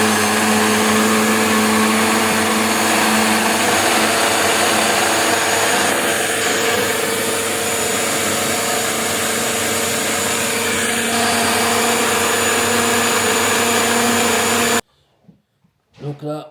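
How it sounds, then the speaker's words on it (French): A blender mixes a smoothie with honey, a loud steady whir running without pause for about fifteen seconds before cutting off, followed by a few faint knocks. "c'est parti pour tout mixer"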